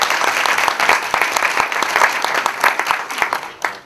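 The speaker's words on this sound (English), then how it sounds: "Mary Jo, a round of applause." Audience applause fills a room during a district attorney debate at a community college, dense steady clapping throughout with no voices, tapering slightly near the end.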